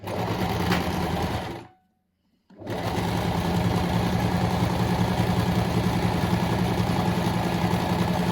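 A sewing machine stitches a fabric face mask, its fast mechanical whirr running loud and close, cutting out for about a second, then resuming steadily.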